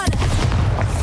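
A Bombarda explosion spell from Hogwarts Legacy booms in one heavy, close blast with a deep rumbling body and quick decay, filling the whole short moment.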